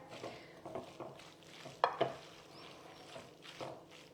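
Sundried tomato pesto pasta is stirred through in a pan, with soft scraping strokes, a faint sizzle and a couple of sharp clinks of utensil against the pan, fairly quiet overall.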